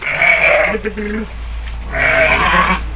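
Sheep bleat loudly and close by on a small farm with a flock of seventeen or eighteen, two long drawn-out calls separated by a brief pause and low background noise.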